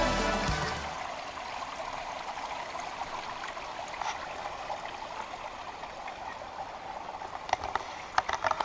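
A mountain stream flows in a steady, moderate broadband rush with no voices, and faint splashes or clicks appear near the end.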